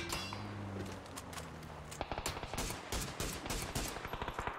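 Video game gunfire rattles in rapid bursts of sharp shots, with an engine-like drone at the start giving way to dense, repeated cracks.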